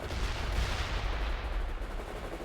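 Sustained gunfire from the World in Conflict video game, Battle of Eatonville on the hard campaign: a dense, continuous rattle of rifle and machine-gun fire with no gaps, steady and fairly loud, with no voices.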